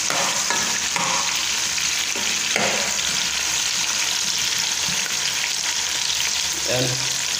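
Bitter gourd, garlic and onion stir-fry in a hot pan, sending out a constant close sizzle broken by occasional scraping stirs, with no talk heard.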